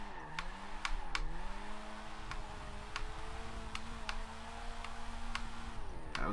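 A 177hp Datsun drifts in Forza 7, its engine note rising and falling as the throttle is worked through a corner, with regular ticking clicks over a steady droning whine.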